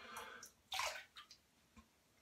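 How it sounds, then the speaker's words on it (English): A wet shaving brush is wrung out and its water dumped, making a short watery splash and trickle followed by a few small drips, close and fairly quiet. "Just wringing my brush out, dumping the water out of this cream"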